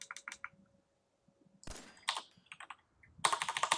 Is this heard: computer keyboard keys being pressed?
yes